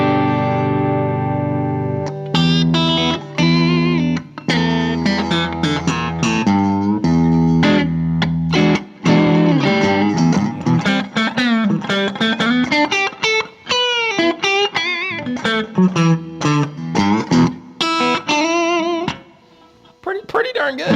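Electric guitar through a Boss IR-2 amp and cabinet simulator on its Tweed green channel: a sustained chord, then a busy run of picked single-note licks and chord stabs, loud and close, with light overdrive and no talking.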